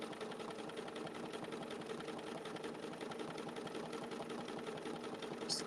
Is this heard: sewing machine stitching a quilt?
yes